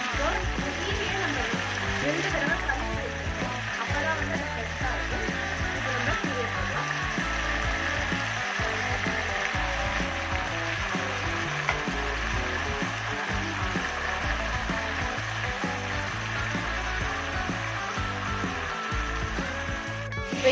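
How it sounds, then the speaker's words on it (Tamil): Drumstick spinach (moringa leaves) sautéing in a pan for an egg stir-fry gives a steady, continuous sizzle that holds at an even level throughout, close and unbroken. "இப்போ இந்த கீரை நல்லா வதங்கிடுச்சு பார்த்தீங்கன்னா"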